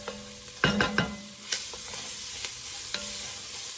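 Flour paste sizzling in a pot for shrimp creole, with a steady frying hiss, a cluster of close scraping stirs at the start, and a few lighter spoon taps after.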